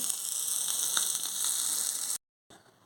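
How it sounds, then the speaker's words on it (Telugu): Kanagarttalu fish frying in a pan over a low flame, a steady close hiss and sizzle that cuts out abruptly near the end before resuming briefly. "సిమ్లోనే బాగా వేయించుకోవాలండి అలాగా దగ్గరుండి వేయించుకోవాలి"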